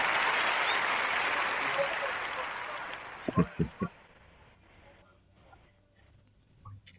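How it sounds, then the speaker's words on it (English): An applause sound effect played on a show, a wash of crowd clapping that slowly fades out, followed by a few sharp low thumps and quieter room noise. "Wait, Tom, there's applause. Hang on, here it is."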